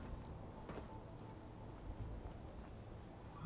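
Steady rain pours down in Nuka World in the game Fallout 4, a dense, even patter of drops that holds at a constant level with no voices.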